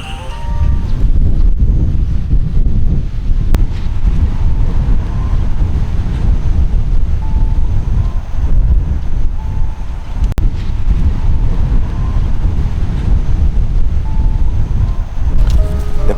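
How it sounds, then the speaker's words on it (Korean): Strong sea wind roars steadily at a seaside campsite, buffeting a Hilleberg Atlas tent with a deep, unbroken rumble and gusty rushing close to the microphone. "바람이 엄청 불어서"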